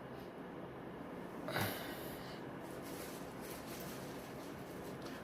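Sharp close-up sniff of a strong, foul-smelling substance, a single loud inhale burst standing out over steady background hiss, with no talk.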